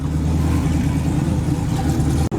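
A Ford Mustang with an LS V8 swap revs hard and steadily, a loud, dense engine roar that holds for the whole moment with no voices over it.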